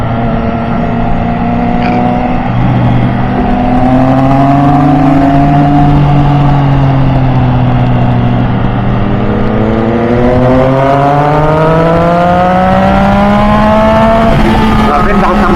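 A car engine revs hard during a midnight drive on the winding Marilaque mountain road, its pitch rising and falling through the gears, loud and continuous, close to the microphone.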